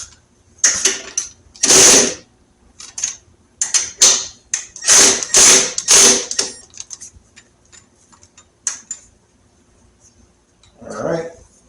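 A hand tool tightens screws on the headlight trim bezel of a Harley-Davidson Road King, giving bursts of quick ratcheting clicks separated by pauses, with a brief rustle of handling near the end.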